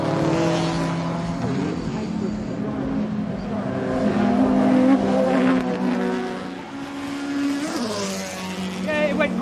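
Lotus 11 GT Breadvan race car driven hard on a circuit, its engine note rising and falling through gear changes and revs, fairly close and continuous, with a voice talking over it.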